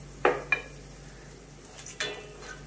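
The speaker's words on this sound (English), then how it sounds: "This has to be roasted very well" Garlic, green chili, ginger and fried groundnuts roasting in a pan, two quick scraping stirs followed by another scrape a moment later, close over a faint background hum.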